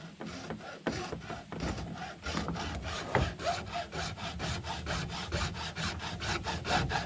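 A saw cuts steadily through a tractor PTO shaft with a rapid rhythmic rasping stroke that runs continuously, close and moderately loud, with no voices.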